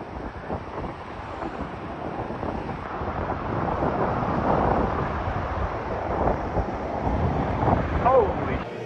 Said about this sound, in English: This guy wanted to show how windy it was in New Zealand.